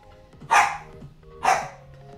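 Two sharp dog barks, about a second apart, ring out close and fairly loud against a quiet indoor background.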